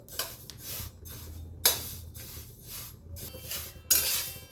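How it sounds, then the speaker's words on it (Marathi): Village sesame seeds dry-roasted in a pan over a low gas flame, repeated rhythmic scraping and rustling strokes with a couple of sharper utensil clinks, close and unaccompanied by talk. "आता आपण शेंगदाण्यासारखंच कमी गॅसवर भाजून घेऊ"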